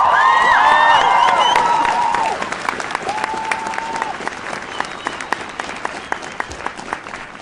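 A crowd at a school strike demonstration applauds loudly for the striking students, with a few cheering whoops and voices over the clapping early on. The clapping then settles into a steadier, thinner patter.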